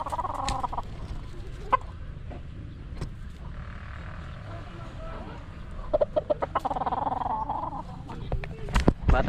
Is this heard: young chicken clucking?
yes